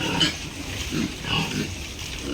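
Pigs on a farm, grunting and squealing close by in a few uneven bursts, with no talk over them.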